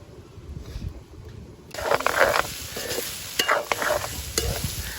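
Diced elephant foot yam sautéing and being stirred in a hot pan in a Jaffna village kitchen, a steady sizzle that swells loudly partway through with scraping stirs on top, close and continuous.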